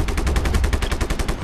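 Rapid automatic gunfire in the video game Just Cause 3 fires in a fast, even stream of loud, close shots for a second and a half, with no talking.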